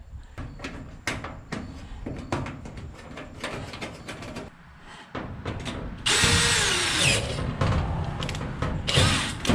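A cordless power drill drives bolts into a Husky steel tool cabinet, with short ratcheting bursts and clicks, then a longer sustained high whine at close range.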